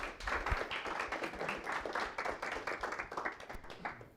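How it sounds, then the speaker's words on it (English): A workshop audience claps a round of applause, dense, steady and fairly close, with many hands patting quickly and evenly throughout, and no voices on top. "Again, a little round of applause."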